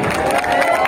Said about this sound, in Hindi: भरपूर तालियां असलम भाई के लिए।